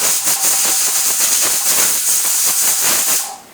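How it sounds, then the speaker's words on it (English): Pressure canner venting excess steam through its spinning weighted top while canning green beans: a loud, steady hiss with faint rhythmic rattling pulses, continuing for about three seconds before cutting off. "that little spinning around of this little top here and release that steam"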